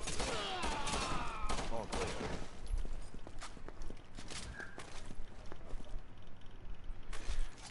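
Bursts of rapid gunfire from a Resident Evil 6 game session crack out repeatedly, sharp shots stacking into volleys over a steady background of game ambience.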